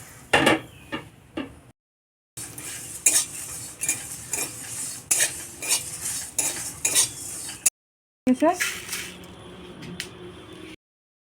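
Whole cumin, coriander, dried red chillies, bay leaves and garam masala dry-roasting in a pan, with a utensil repeatedly scraping and stirring against the metal in quick bursts, punctuated by brief pauses; close and clear, no talk.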